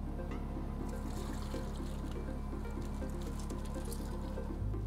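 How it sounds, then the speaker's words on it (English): A thawed scat sample is poured into a lab sieve, a continuous wet trickle and patter over a steady mechanical hum, ending with a brief low thump. "So we take our sample that's been thawed, and we pour it in like this."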